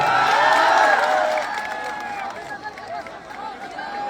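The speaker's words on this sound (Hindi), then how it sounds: "इस भाई के लिए जोरदार ताली होने का।" A large crowd at a Pawan Singh election rally in Karakat cheers and shouts, loudest at first, then eases into a lower hubbub of voices.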